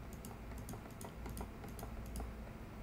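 Quiet, rapid clicks of a computer mouse, irregular bursts of light taps at close range over faint room hum.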